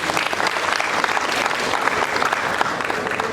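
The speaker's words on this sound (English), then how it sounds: "So a big round of applause for our students." A school annual day audience gives the students a full, continuous round of applause, dense and steady throughout the short stretch.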